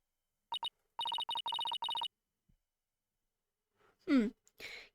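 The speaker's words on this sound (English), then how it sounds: "That's my ringtone." Phone ringtone from the video game Ace Attorney Dual Destinies: a short electronic melody of two quick beeps, then a rapid burst of repeated bright tones, followed after a pause by a brief voice-like sound.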